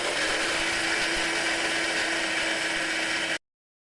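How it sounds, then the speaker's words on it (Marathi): A kitchen mixer grinder grinds crushed fried puris into powder for besan laddu: a steady, loud, high whirring motor drone running evenly, then cutting off abruptly near the end. "थोडं मिक्सरला घालून तो फिरून घ्यायचा."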